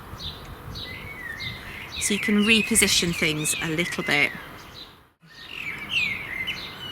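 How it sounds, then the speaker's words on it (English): A blackbird sings in a community garden in springtime, with fluting, warbling phrases and chirps close by, partly under a person talking, with a brief pause in the song before it resumes. "Being sung to by a blackbird at the moment."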